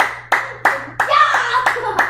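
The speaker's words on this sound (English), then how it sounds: "How about a round of applause for the champ?" A few people clap for a league champion at a small trophy presentation, giving about six distinct, evenly spaced claps that come close and loud, with a faint hum underneath.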